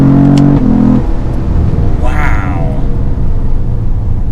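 A Cadillac CT4-V Blackwing sedan accelerating hard out of a turn, its engine a loud, close rumble that shifts briefly before building again, with a person speaking over it.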